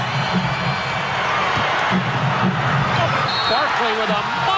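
Basketball arena crowd roaring and cheering during an NBA game after a hard drive to the basket draws a foul, a loud steady crowd wash with ball bounces beneath it.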